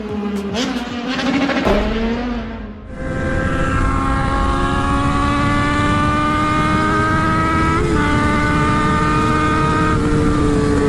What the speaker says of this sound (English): I hate the noise pollution motorbikes make